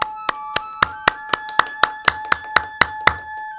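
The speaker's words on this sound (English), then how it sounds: "They are applauding you." A dozen or so distinct, evenly spaced claps ring out one after another at a steady beat, each sharp and clear, over a sustained musical tone.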